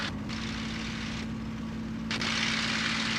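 A genuine 1944 Supermarine Spitfire's engine drones steadily in flight, heard from inside the cockpit as a constant, close roar with shifts in intensity.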